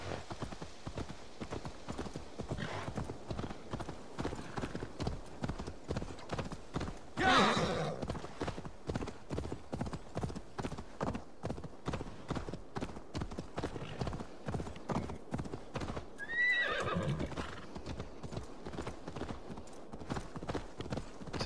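A black horse in the video game Assassin's Creed Valhalla trots along with a steady, rhythmic clip-clop of hooves throughout, broken by two whinnies, all fairly quiet and close.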